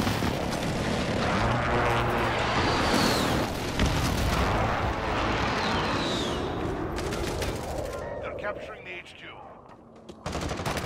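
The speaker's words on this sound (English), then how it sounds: "Enemy precision airstrike" In Call of Duty Modern Warfare, an enemy precision airstrike roars in as jet aircraft sweep overhead amid rolling explosions and machine-gun fire. The din is loud and sustained, then thins toward the end with a final burst, and a voice speaks briefly.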